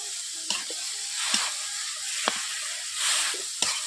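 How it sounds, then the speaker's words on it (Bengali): Malabar spinach with mustard and cumin paste sizzles and hisses in a hot pan while a utensil stirs it, with several sharp scraping knocks against the pan at irregular intervals. "এইভাবে আমি পুঁই শাকগুলোকে 3 থেকে 4 মিনিট নেড়ে নিচ্ছি"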